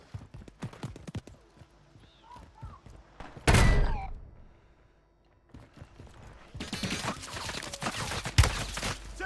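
Gunfire in the Call of Duty video game, sharp bursts and thumps mixed with a sudden loud impact, a quiet gap, then a dense crackling volley.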